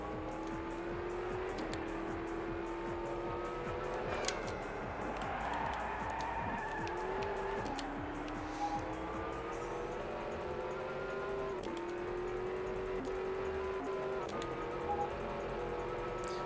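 Race car engines roar steadily in the Le Mans 24 Hours PS2 game, revving up through gear changes in a repeating rise-and-drop pattern, with occasional tire noise and faint clicks.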